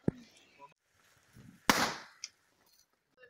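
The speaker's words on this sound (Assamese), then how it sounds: "ইহঁতে ছাতি লৈ কিনে বোমা মাৰিব আহিছে" A Diwali firecracker bursts with one sharp, loud bang in the rain, preceded by smaller pops and clicks and followed by a fading crackle, while people talk nearby.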